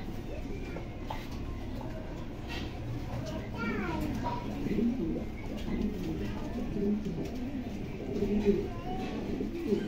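Racer pigeons in a cage coo repeatedly in soft, throaty bursts from close by, under background voices and children's chatter.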